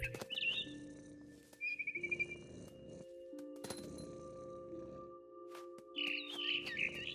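Small bird chirping in What Remains of Edith Finch, bright tweets in a short burst early on, again around the two-second mark, and in a livelier flurry near the end over a steady low ambient bed.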